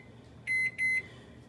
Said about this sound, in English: set it to 2 minutes and wait